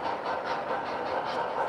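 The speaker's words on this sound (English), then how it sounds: "As soon as I get these trains running" Model trains run steadily on their track loops, giving a continuous, even rumble and whir with faint rhythmic clatter, moderately close and unbroken.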